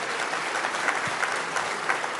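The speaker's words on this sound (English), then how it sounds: "Can we give a round of applause, though, for everybody that put together this beautiful room here at the Breakers Palm Beach?" Steady, dense applause from a crowd at an awards dinner in a ballroom at the Breakers Palm Beach, with even clapping throughout and no break.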